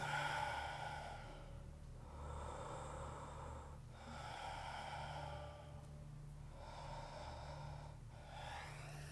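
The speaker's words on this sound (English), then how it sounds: "Deep Ujjayi breathing." Deep Ujjayi breathing during a vinyasa yoga flow: slow, faint breaths drawn in and out through the throat, repeating in a steady rhythm of about four long breaths, with no talking.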